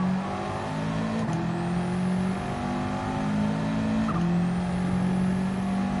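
Subaru WRX engine in Gran Turismo 7 racing: a steady, droning engine note holding and shifting pitch through gear changes, continuous and fairly loud with no talking.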